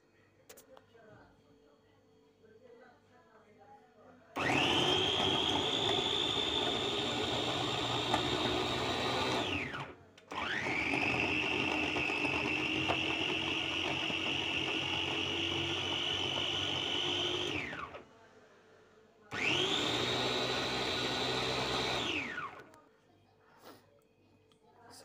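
A Moulinex food processor grinds broccoli, cucumber, carrot, beet and arugula in three long bursts of loud, close, high whirring motor noise, separated by short pauses and ending in a brief quiet tail.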